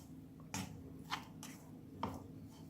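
Potato being stirred into a spice paste in a pan, heard as a few soft, separate squishy scrapes and taps spaced about half a second apart, faint and close, with no talk.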